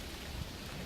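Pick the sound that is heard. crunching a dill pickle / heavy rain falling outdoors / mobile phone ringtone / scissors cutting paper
heavy rain falling outdoors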